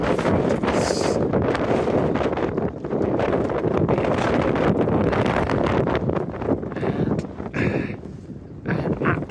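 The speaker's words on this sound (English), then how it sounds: "At the top of High Raise, quite a wind blowing." Strong wind buffets the summit of High Raise, a Lake District fell, roaring steadily and loudly against the microphone with gusty swells and no clear speech.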